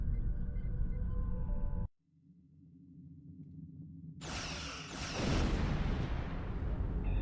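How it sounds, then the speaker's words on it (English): Starship weapons fire at an Undine planet killer in a space combat game. A steady droning hum cuts out abruptly, a low rumble builds, and then a loud, bright burst of blasting erupts and sustains. "Target that ship, and fire all weapons!"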